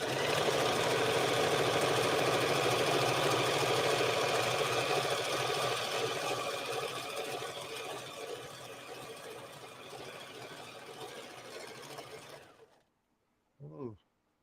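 A home sewing machine runs in a steady, dense mechanical whir that slows and thins out, then stops abruptly, followed by a brief rising voice-like sound near the end.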